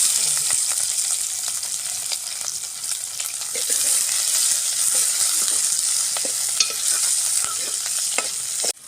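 Chopped onion frying in hot oil with mustard seeds and dried chilies, a loud, dense, continuous sizzle with occasional soft scrapes of stirring throughout.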